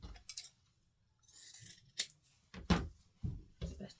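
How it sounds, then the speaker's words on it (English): Scissors snip through an artificial flower stem for a baby's crib arrangement, several sharp separate cuts spaced irregularly, close and fairly quiet, with soft handling rustle between them. "Cut this one shorter now."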